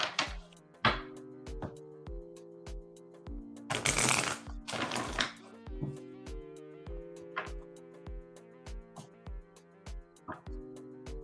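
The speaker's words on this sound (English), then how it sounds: "We're shuffling for you now." Tarot cards shuffled by hand, with a steady run of soft riffling and bridging bursts, a few louder flurries, set against quiet music in the background.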